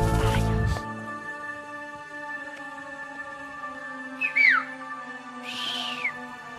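A person whistles a few short, sliding notes, fairly faint, with long gaps between them. A low steady hum runs underneath, and there is no talking.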